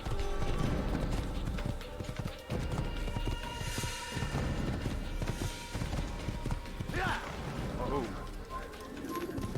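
Hooves clip-clop in quick steady rhythm as a horse gallops in Assassin's Creed, close and busy, with a brief whinny and game ambience, while someone talks over it.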